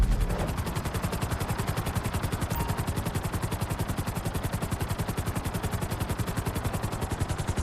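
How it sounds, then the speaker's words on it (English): Helicopter flying during flight-school training in GTA V, a loud, close, steady rapid rotor chop pulsing evenly throughout with a whining engine underneath, no voices. "we'll see how well you handle the chopper"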